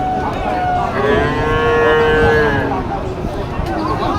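A single long, low moo from a Sahiwal bull close by at a cattle market, rising and holding for a couple of seconds over a murmuring background.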